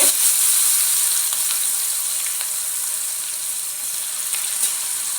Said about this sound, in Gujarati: થોડી હિંગ નાખશું, મીઠા લીમડાના પાન નાખશું, લીલું મરચું નાખશું આપણે